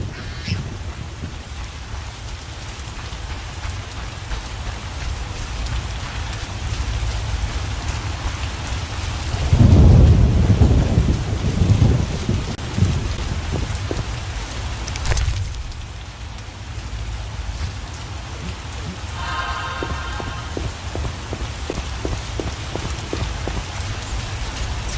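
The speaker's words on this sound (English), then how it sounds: "What a downpour." Steady heavy rain pours throughout in a video game, with a deep rumble of thunder rolling in midway and a sharp crack shortly after.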